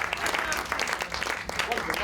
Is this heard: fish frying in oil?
no